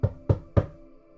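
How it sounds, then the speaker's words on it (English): Three firm knocks on a door in a quick, even rhythm, close and sharp, then quiet. "And then you hear a knock."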